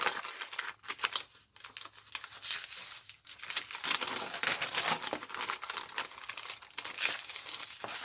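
Paper strips being handled, glued and folded while assembling a handmade journal spine with cardstock, giving steady close crinkling and rustling with soft crisp crackles throughout, no talking.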